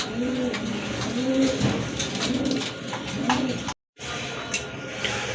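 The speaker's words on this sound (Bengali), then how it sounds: "এখানে কিন্তু আরেক গোটা কবুতর আছে" Pigeons coo repeatedly in low, rolling calls, close by, with a brief dropout of sound partway through.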